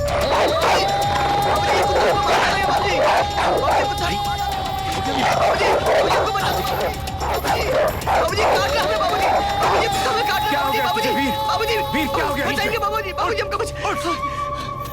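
A big dog barks amid a loud, busy Hindi film comedy scene, the barks buried under constant chatter, music and crashing sounds throughout.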